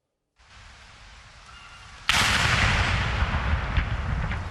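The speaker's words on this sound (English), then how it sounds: "And cannons have been fired to mark the monarch's birthday." Ceremonial cannon fire for a royal birthday gun salute, heard as a sudden loud boom that breaks over a low outdoor rumble and rolls on as a sustained, noisy blast.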